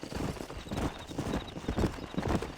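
Horses in the remastered video game Red Dead Redemption clip-clop steadily on the ground, with many overlapping hoofbeats at a moderate distance, continuous and even throughout.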